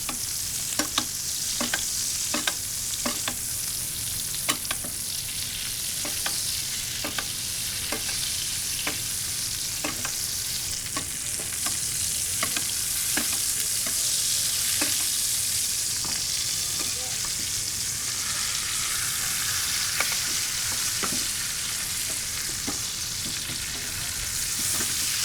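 Steak searing in a pan of butter flavored with herbs such as parsley and rosemary: a dense, continuous sizzle with rapid spitting crackles throughout, close and steady, no voices.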